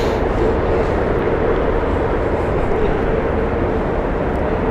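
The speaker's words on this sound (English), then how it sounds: "So here we are, Air Canada taking off now." An Air Canada airliner taking off at Heathrow Airport, its jet engines producing a loud, close, continuous roar with no voices over it.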